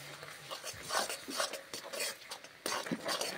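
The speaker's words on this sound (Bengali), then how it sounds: "দেখুন গুড়টা ফুটে উঠেছে, এর মধ্যে আমি দিয়ে দেব নারকেল কোড়া, দিয়ে ভালো করে নাড়িয়ে নেব" Grated coconut being stirred into boiling sugarcane jaggery, soft irregular scraping and sticky sloshing strokes from a spoon against the pan, close and fairly quiet.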